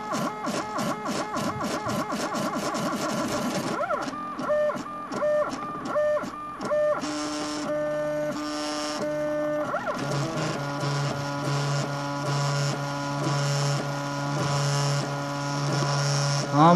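A Mendel90 3D printer running Marlin firmware prints a 20mm test cube: stepper motors whine in rapid stuttering tones that change pitch as the head moves, steady and close, with occasional quiet talk.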